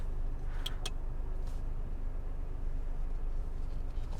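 Mazda CX-30 GT cruising at night, steady low road and engine rumble from inside the cabin with a couple of faint clicks near the start.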